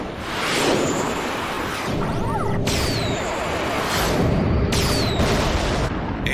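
J-missiles launched and exploding against a Magellan-class battleship in the Mobile Suit Gundam anime, a dense roaring blast with crashing impacts and whooshing streaks layered over sustained loud noise, with no talk.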